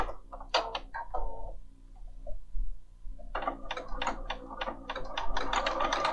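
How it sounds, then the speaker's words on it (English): A Bernina 5 Series sewing machine stitches a row, giving quick bursts of rapid mechanical ticking, a brief pause, then a longer fast run of needle clatter, close and fairly quiet. "And we'll sew a third row."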